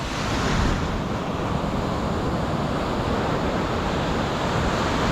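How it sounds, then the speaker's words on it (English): Ocean waves breaking on the shore at Puerto Viejo in heavy rain, a loud continuous roar of surf with wind buffeting the microphone, no voices. "Beautiful waves."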